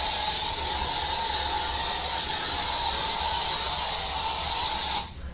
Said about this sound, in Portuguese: Aí virou, virou spray.